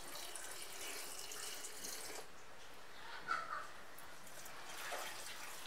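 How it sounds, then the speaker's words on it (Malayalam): Boiled and cooled water is poured into a pickle mixture. The pour makes a faint, steady trickle with a small splash midway, and there are no voices. "ഇനി ഞാൻ തിളപ്പിച്ചാറ്റിയ വെള്ളം ഒഴിക്കുകയാണ്."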